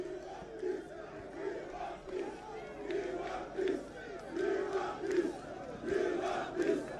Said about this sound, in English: the crowd is chanting, "We want peace. We want peace."